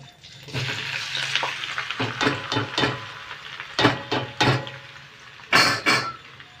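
A spatula stirs a mashed potato, carrot and bean filling in a wok, making irregular close scraping strokes that come in short bursts with pauses between them, and no one speaks.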